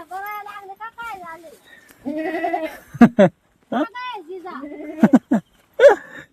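A goat kept in a farm shed during rain bleats several times at close range in wavering, loud calls spread across the clip, with sharp clatters between them.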